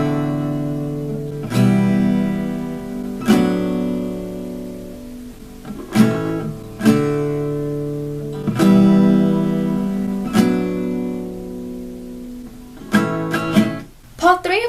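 Guitar plays plain down strums through the part 1 chord progression of a song, each chord struck and left to ring before the next change, close and clear with a few quicker strums near the end.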